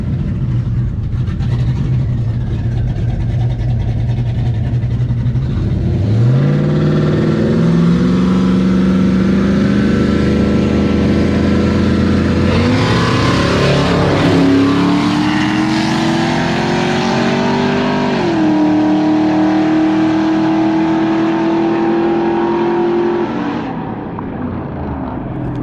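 A 6.0-swapped OBS Ford truck and a turbo 4.8 Sierra launch side by side in a drag race, engines roaring loud and close as revs climb through several upshifts, turbo whine rising, then fading at the end.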